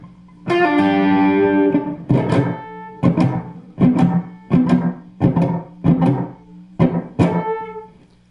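Electric guitar played with an echo effect in the Shawn Lane technique: a sustained distorted note, then a series of sharp plucked stabs, each followed by rapid decaying repeats.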